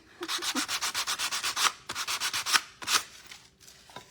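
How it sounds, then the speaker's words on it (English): Hand sanding with 120 grit sandpaper on a thrifted vintage chicken figure: quick, rhythmic rasping strokes close up, a fast run of even scrubs, a brief pause, then a few slower, separate strokes fading to quiet. "I've just got some 120 grit sandpaper and I'm just going to sand off his little eye."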